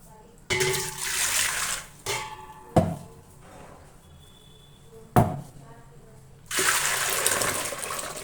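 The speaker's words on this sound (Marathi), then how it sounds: "आता एक पातेल्याला बरोबर 1 पातेलच पाणी टाकायचं" Hot water pours and splashes in several separate bursts into a cooking pot, with clanks of the metal vessel in between the pours.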